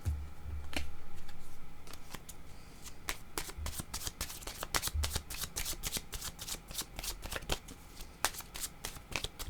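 Playing cards being shuffled at close range, a dense run of crisp riffling flicks and snaps with a few soft thumps underneath, before a pink card is drawn.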